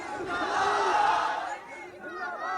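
A large crowd at an Indian opposition political meeting in Delhi cheers and shouts together in a loud, swelling roar, then dips and rises again with mixed voices.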